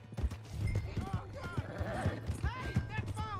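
Clip-clopping horse hooves with a brief whinny in Red Dead Redemption 2, a steady rhythmic trot close by, with a voice and game music underneath.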